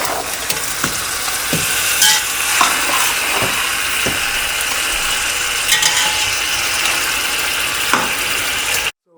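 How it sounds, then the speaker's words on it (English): Beef roasting in ghee with masala in a pan for Afghan Kabuli pulao: a steady close sizzle with scattered sharp clicks and scrapes from stirring, and no voices. "So we're roasting our beef in our ghee, and you can see the beef change its color to a brown."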